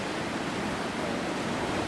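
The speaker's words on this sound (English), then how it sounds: "That's water erupting out of Thors Well right there." Sea water surging and churning out of Thor's Well on the rocky Oregon coast, a steady broad roar of rushing surf with no voices, loud and close throughout.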